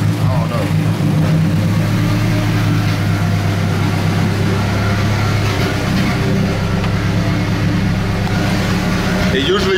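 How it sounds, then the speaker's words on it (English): A Nissan KA24DET engine idling rough, a steady low, loud rumble that holds without revving, close to the car. "It's idling good right now."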